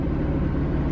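BMW F80 M3 engine on the move, a steady low rumble heard from inside the cabin, continuous and even throughout with no talk.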